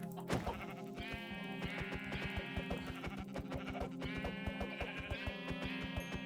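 Sheep in Minecraft bleat repeatedly over steady rhythmic game music, the wavering cries rising clearly at intervals throughout.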